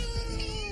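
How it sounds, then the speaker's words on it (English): A cat lets out a single loud, drawn-out meow with a wavering, yowling tone, close by and filling the whole moment with no voices. "I'm addicted to cats."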